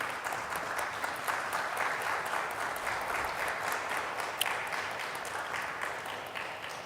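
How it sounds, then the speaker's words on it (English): An audience applauds panel speakers at a zero-waste cities session, the steady clapping of many hands filling the room evenly and continuously, fairly distant, with no speech over it. "Can we give them a round of applause"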